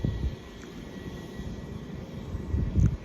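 A Mark IV intercity train in near-intercity livery pulls away from Peterborough Station, a low, steady rumble at moderate distance that swells slightly near the end, with no talk.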